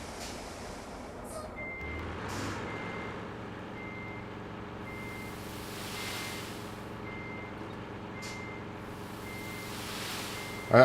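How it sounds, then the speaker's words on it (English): Steady electronic reversing beeps repeat at an even pace over a low rumbling truck engine in a video game, with a brief hiss of air release. "I just want to see him backing up the truck"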